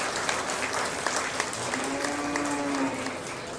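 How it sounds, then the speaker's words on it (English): A crowd applauds intermediate exhibitors at a beef showmanship show, dense continuous clapping with a few sharper individual claps standing out, lasting the whole stretch. "Let's give a great round of applause for these intermediate exhibitors."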